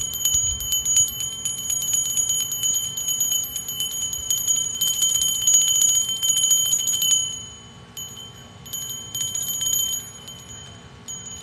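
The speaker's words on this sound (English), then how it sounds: "I have this bell here." A small $5 handheld bell rings with bright, shimmering metallic tones that sustain for several seconds, fade, then sound again in a few quieter strikes near the end.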